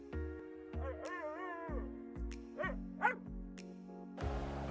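A small dog barks and yips in a string of short, bright, high-pitched bursts with whimpering tones between them, fairly close and clear, in a story about a Kansas farm.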